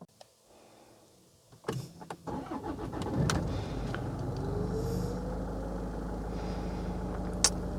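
A car's engine is started after its MAF sensor was replaced: a short cranking burst, then the engine catches and settles into a steady, fairly loud idle that carries on to the end.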